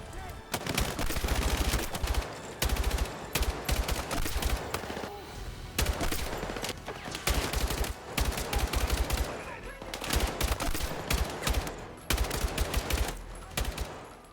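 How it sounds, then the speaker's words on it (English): A machine gun with a 100-round supply fires in Battlefield 6, loud rapid bursts repeating in clusters with short gaps between them, close and punchy. "I don't know what machine gun this is, but this is amazing"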